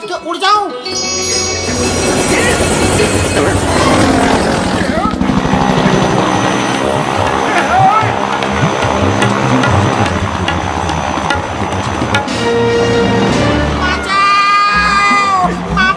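A cartoon small airplane flies with a loud, steady buzzing engine drone that runs through most of the sixteen seconds under busy music and tinkling effects.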